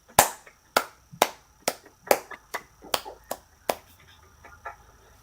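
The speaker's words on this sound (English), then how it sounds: "I'm going to give this a round of applause" About ten sharp, slow handclaps ring out one at a time at a steady, unhurried pace, close and fairly loud, each decaying quickly into near silence.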